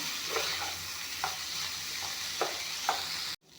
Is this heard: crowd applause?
no